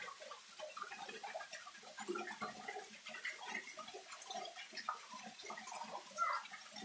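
Water trickles down a thin gameleira branch in the woods and splashes against a rock wall, making a soft, faint patter of irregular drips and gurgles that continues throughout.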